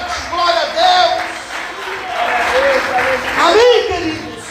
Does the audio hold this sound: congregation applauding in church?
yes